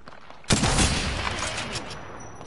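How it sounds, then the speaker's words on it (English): Gunfire in the battle royale video game Apex Legends, a sudden loud burst of rapid shots that rings out and decays over the following seconds, with no talking. "Missing all my shots."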